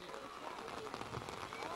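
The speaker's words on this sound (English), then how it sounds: "Rain is just coming down hard." Heavy rain pours steadily over a soccer field during a Thanksgiving weekend Surf Cup under-15 girls semifinal, a dense continuous hiss at fairly low level with faint player shouts and movement mixed in.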